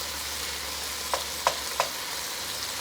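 Tomato paste cooking in a pot makes a soft, steady sizzle under low background hum, with three short sharp clicks or taps spaced evenly near the middle.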